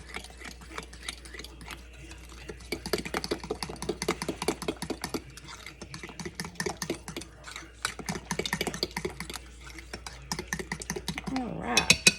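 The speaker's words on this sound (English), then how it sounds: "I'm going to go ahead and stir that up before I put anything else in it" A fork stirring batter for an impossible coconut pie in a mixing bowl, making a steady run of quick, close scraping taps against the bowl with scattered louder clicks.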